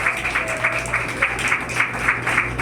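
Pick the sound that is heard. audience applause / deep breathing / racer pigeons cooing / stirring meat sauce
audience applause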